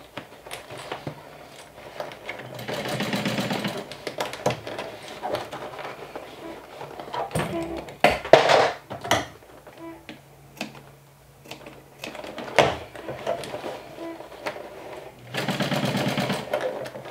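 A sewing machine stitches a glow-in-the-dark backpack in several short, rapid bursts of whirring, clattering stitches separated by pauses and small handling clicks.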